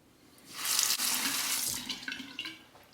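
Tap water streams from a faucet to rinse a Parker adjustable shavette razor, a close hissing splash that swells for about a second and a half, then tapers off with a few drips.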